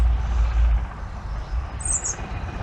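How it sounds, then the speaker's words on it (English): A little robin in a garden beside pallet compost bays gives a short, bright chirp partway through, over a low rumbling background. "there's a little robin already in there"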